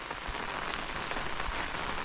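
Rain falls steadily and fairly close, a dense even patter on surfaces with no pauses and no other sounds.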